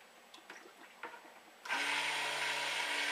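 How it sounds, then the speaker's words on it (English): A mixer switches on low partway through, blending liquid soap oils with a little clay stirred in for bay rum marble soap; after a few faint knocks, a steady loud whir holds to the end. "before I hit it with the mixer"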